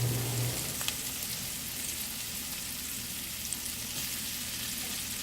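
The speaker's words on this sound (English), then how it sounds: "you're just going to add all of these zoodles to the pan." Zucchini noodles cook in a pan on medium heat, giving a steady, even sizzle like light rain that carries on for about five seconds with a couple of faint clinks.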